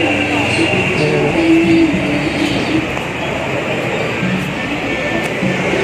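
An LRT light rail train passes near a street in Pasay along Libertad, a broad continuous rumble and rail hiss mixed with busy city noise and scattered voices.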